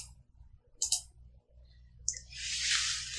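Computer mouse clicks during photo editing, a couple of sharp close clicks followed by a longer soft rustle, heard alone without talk.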